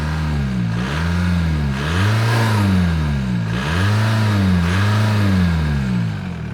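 A stock diesel Volkswagen Jetta engine in eco mode revs up and down repeatedly in steady waves, a deep rumbling drone rising and falling several times, close and loud with no talking.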